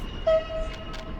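A train rolls through the Soviet-era city-builder game Workers & Resources: Soviet Republic, giving a steady, sustained mechanical hum with one held tone and no talk over it.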